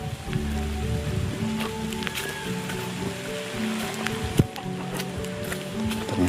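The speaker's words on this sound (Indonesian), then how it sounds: "Nah, ini cuacanya gerimis ini kan kawan. Cuacanya gerimis. Nah, ini hujan ya kan kawan ya." Light drizzle falls in a remote rural village in Central Java, Indonesia, a steady soft patter of rain on surfaces heard close and continuous, with faint background hum and one brief sharp knock partway through.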